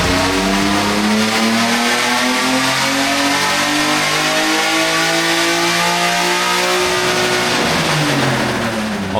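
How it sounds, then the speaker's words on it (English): A BMW E36 engine revs hard on a dyno during a run with a larger exhaust, a loud, steady climb in pitch that holds near the top, with no talk. "so let's get some dyno runs in"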